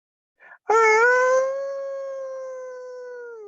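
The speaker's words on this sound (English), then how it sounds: "The loud howling sound seemed to be coming from the very bricks around them, echoing back and forth inside of this well." A loud, sustained howl rising from one long tone and slowly fading, preceded by a brief faint call, heard inside a deep brick well in a haunted pagoda story.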